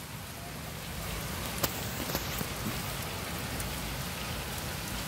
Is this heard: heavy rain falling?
yes